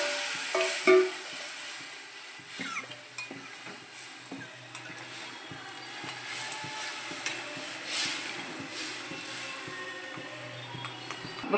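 Fish soaked in tamarind dropped into a sizzling curry pan, giving a soft steady sizzle with scattered clinks and stirring scrapes of a utensil against the pot, no voices.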